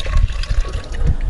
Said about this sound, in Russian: Мы заливаем приготовленный объем, приготовленный раствор